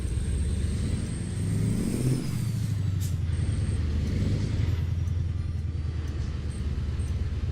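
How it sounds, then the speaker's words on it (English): A truck engine rumbles close by and revs up briefly, then settles into a rough, steady idle with a hiss of air partway through. "it's my truck making that sound"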